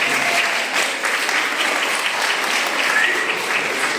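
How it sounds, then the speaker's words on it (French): Applause at a church baptism in Ussel, a steady dense clapping from the congregation that fills the room evenly and without a break. "Allez, on applaudit encore."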